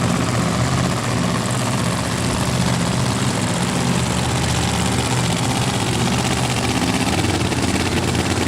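A supercharged drag racing car with a high-horsepower blower engine, narrow tires and a short wheelbase, heard as a loud, steady, rumbling engine drone at a drag strip with no break or voices.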